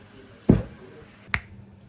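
Two crisp finger snaps sound close and alone, the first louder and the second sharper, with a short gap between them in a quiet room.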